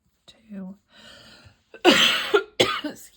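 A woman coughs several times in harsh, close bursts after some soft breathy throat sounds, with short pauses between the coughs.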